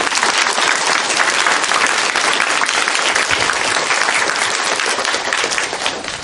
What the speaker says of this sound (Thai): ให้พวกเราปรบมือดังๆให้กับความสำเร็จ